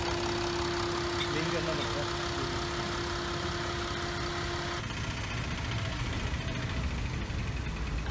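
A 2009 Chrysler 300C limousine engine idling and running steadily while the car reverses, a moderate low hum with faint mechanical whir and a voice talking over it.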